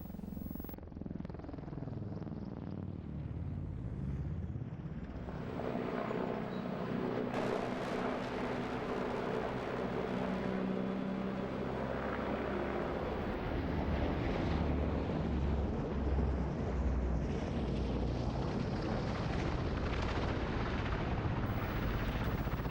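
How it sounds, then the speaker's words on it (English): A large Merlin helicopter flying a display at an air show, its heavy rotor thump and turbine roar loud and continuous, buffeted by wind noise on the microphone. "demonstrating the agility of this very large helicopter"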